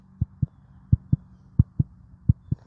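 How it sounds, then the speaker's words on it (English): A slow, steady heartbeat thumps alone in four muffled lub-dub pairs, deep and soft, at a relaxed resting pace. "You can hear the heartbeat."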